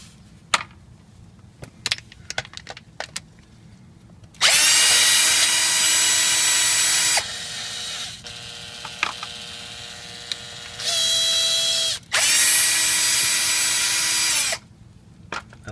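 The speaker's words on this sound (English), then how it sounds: "At least we got power tools to do it." Power drill working on a Ford Focus, several loud sustained whirring bursts of a few seconds each, one somewhat softer, separated by pauses and preceded by scattered clicks and knocks.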